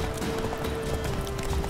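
A horse gallops in The Witcher 3, its steady rhythmic clip-clop of hooves running continuously and moderately loud over a faint sustained tone, with no speech.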